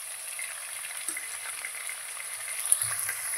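Chana dal roasts in hot oil, giving a soft, steady frying hiss with a few faint crackles and light stirring clicks scattered through the short stretch.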